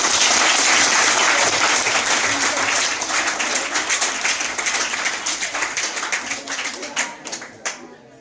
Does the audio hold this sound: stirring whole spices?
no